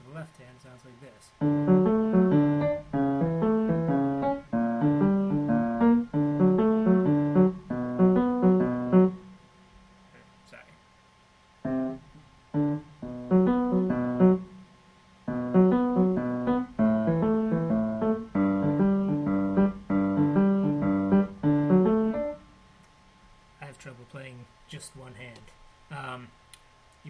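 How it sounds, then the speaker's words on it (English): Left-hand piano part of a song with a G bass note, played solo as steady repeating low broken-chord patterns in two phrases separated by a short pause, clear and close. "So all put together for the left hand sounds like this."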